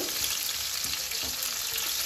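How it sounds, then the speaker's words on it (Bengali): Chopped onions frying in hot oil in a pan, a steady close crackling sizzle that holds level throughout, with no voices. "পেঁয়াজটাকে একটু হালকা করে ভালো করে ব্রাউন হওয়ার অবধি ভাজবো"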